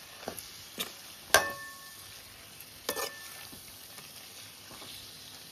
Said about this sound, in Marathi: तर मस्तपैकी सगळे कोळंबी आता याच्यात मिक्स करून घेऊया.